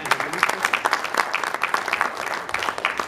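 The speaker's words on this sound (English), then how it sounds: "I think we can give God a hand clap for that" A church congregation applauds during a service, a short, dense burst of many hands clapping that stays fairly even across the whole moment.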